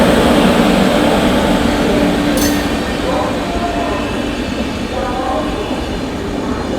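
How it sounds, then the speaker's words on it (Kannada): The Tirupati–Bengaluru SMVT Intercity Express rolls past at a station in a loud, steady, close rail rumble that fades slightly over several seconds. "Tirupati SMVT Bengaluru intercity express."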